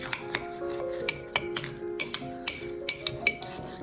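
A spoon stirs a snow recipe in a bowl, giving a string of bright, ringing clinks against the sides at an uneven pace, close and clear with no talking.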